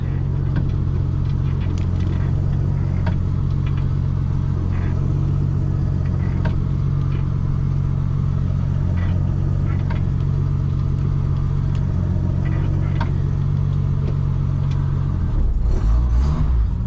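A Nissan R31 Skyline engine runs steadily after a manual gearbox swap, a loud, even low rumble at idle close by, with a brief rise in engine noise near the end.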